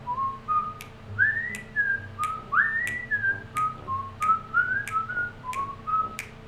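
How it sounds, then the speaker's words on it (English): A man whistles a bright, jaunty tune nearby, alone and clear, with short melodic phrases that rise and fall in a bouncy rhythm over a faint low background hum. "I hear the guy standing outside my door start to whistle"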